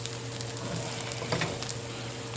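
Eggs frying in bacon grease in a pot give a steady, close crackling sizzle with scattered pops, under a constant low hum.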